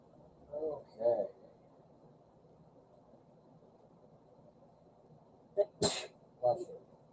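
A single loud human sneeze bursts out close by, preceded and followed by short coughs or throat noises in a quiet indoor room where people talk.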